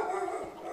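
A Minecraft dog giving a short, close bark or whine over a steady background tone, with no talk.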